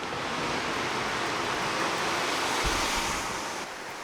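A river rushes beside a campsite on the Kumano Kodo pilgrimage trail in Japan, a constant broadband wash of flowing water that stays close and steady, with a brief low thump near the end.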